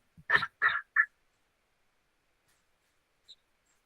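A human voice imitates the call of a caracara: three quick, harsh, nasal croaking notes in a row, close and fairly loud, followed by near silence.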